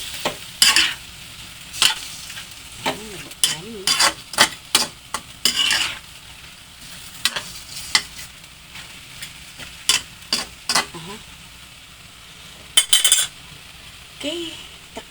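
A spoon scrapes and clinks against a pot while chicken and chicken cubes are stirred for tinolang manok, with irregular close knocks and scrapes over a soft background sizzle.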